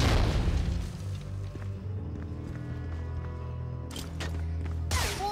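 Heavy grenade blasts from the World War II shooter Medal of Honor: Frontline: a broadband boom at the start, then two more sharp bursts near the end over a steady rumble of game sound.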